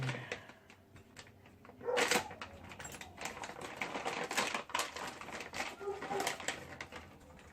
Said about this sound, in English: So let's go ahead and cut open the bag.